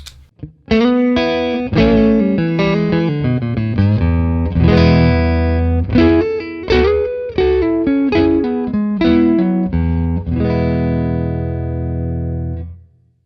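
Electric guitar through a Wampler Tumnus overdrive pedal playing a run of chords and notes, loud and thick with a fat low end, ringing out steadily before stopping.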